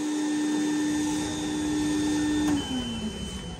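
A vacuum cleaner runs close by with a loud, steady whine and hum, its motor pitch dropping near the end as it winds down, with no talking.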